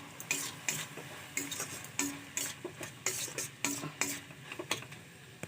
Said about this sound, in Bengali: সব কিছু দিয়ে একসাথে ভালো করে কষিয়ে নেব